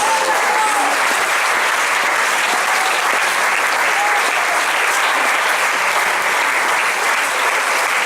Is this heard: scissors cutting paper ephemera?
no